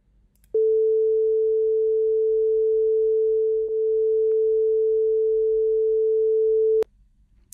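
A steady pure synthesized tone generated in Python holds at one pitch for about six seconds, dipping briefly in volume midway before recovering, then stopping abruptly; no voices.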